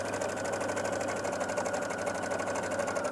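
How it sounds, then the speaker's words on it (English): Sewing machine running steadily while stitching the center back seam of a Balenciaga-style blouse, a rapid, even mechanical whir heard close and alone, without talk. "we're stitching the center back seam"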